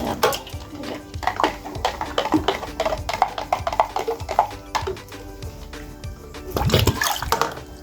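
500 ml of solution is poured into a container, heard as uneven liquid splashing and gurgling up close, mixed with clinks and knocks of containers and a louder surge of liquid near the end.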